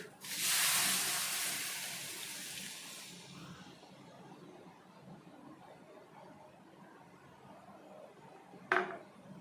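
Milk poured over fried carrots in a hot pan for carrot sandesh: a loud, sharp sizzle bursts up and slowly fades over a few seconds, leaving a quiet simmer and one brief clink near the end.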